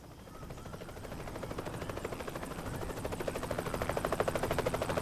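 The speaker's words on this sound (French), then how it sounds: "un hélicoptère survole la vallée du Fango" A helicopter's rotor thuds steadily over the Fango valley in Corsica, growing gradually louder as it approaches from a distance, with a rhythmic chopping beat throughout.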